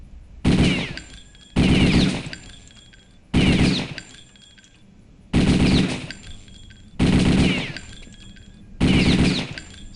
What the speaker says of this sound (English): So where did Thompson go? Let's do burst about 5-6 bullets.